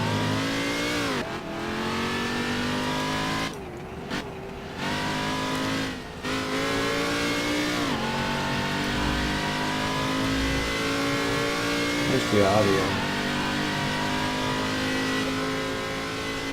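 A race car engine in the rFactor 2 sim racing game revs and drones continuously, loud and steady with brief dips as gears shift and the pitch rises and falls, with a short squeal of tyres near the end.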